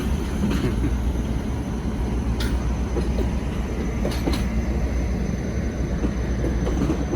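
A train rolls across a railroad diamond crossing marked with a stop sign. The rumble is loud and continuous, with rhythmic wheel clatter and occasional sharp metallic clicks.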